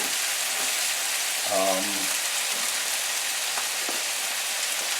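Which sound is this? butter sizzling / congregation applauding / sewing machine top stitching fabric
butter sizzling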